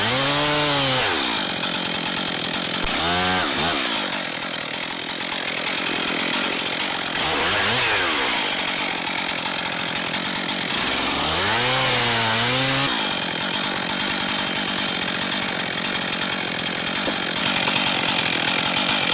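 A chainsaw cuts through a felled fir tree outdoors, the engine roaring steadily close by with several quick revving swoops up and down as the bar works through the wood, no speech.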